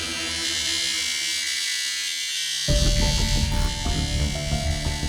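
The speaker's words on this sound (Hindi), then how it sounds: "ये आपका एसी इतना आवाज करता है?" A noisy air conditioner in an office runs with a steady broadband whir and buzz. Partway through, a louder layer of music and room noise comes in over it.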